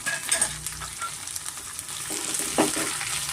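Thick-cut mushrooms for pepper mushroom rice sizzle in a pan while being stirred, with a continuous close frying hiss broken by scraping strokes of the spoon, and no voices.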